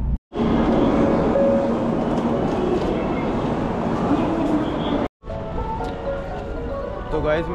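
A Japanese Shinkansen bullet train running at high speed, up to 307 km/h, heard from inside as a loud, steady roaring rumble broken by two brief drops in sound.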